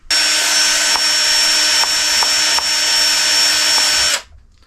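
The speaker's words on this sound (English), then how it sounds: "drill bit to drill out the center hole for it to fit on these shafts" A power drill runs steadily at high speed, boring out the center hole of a replacement wheel for an FMS Ranger 1220mm model plane's landing gear shaft, a loud continuous whine with slight bumps before it cuts off.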